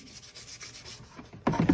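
Light hand sanding on part of a handmade armor piece: a few soft rubbing strokes, then a louder, brisk scrubbing burst at the end, close and without talk.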